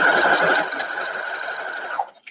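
A sewing machine stitches a quarter-inch seam on a Baby Chick quilt block, a close, rapid mechanical whir that slows and stops with a couple of brief clicks at the end.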